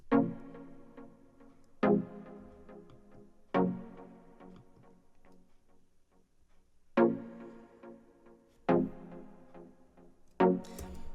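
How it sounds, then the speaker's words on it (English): Simple synth chords struck one at a time, six in all, each ringing out and fading, with a short pause in the middle. No voices. "So here I just write out a couple simple chords"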